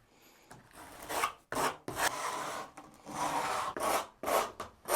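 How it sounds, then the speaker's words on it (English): Sandpaper rubs back and forth over the wooden frame of a DIY acoustic panel in loud, close strokes of about a second each, separated by brief pauses, with no talking. "you should probably sand it down, which I'm about to do just now"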